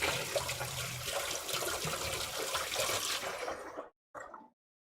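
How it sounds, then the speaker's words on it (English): Water gushes steadily into a kitchen sink as a food processor is rinsed, a loud splashing flow that cuts off abruptly near the end, followed by one brief final splash. "I'm going to get this food processor kind of rinsing in the sink."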